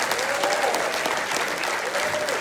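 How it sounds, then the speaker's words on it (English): Audience in Liberia applauds steadily, a loud, dense sustained clapping with some voices mixed in. "if you're a young person, you're going to clap your hands"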